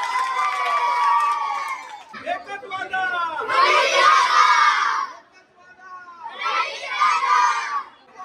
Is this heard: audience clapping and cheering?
yes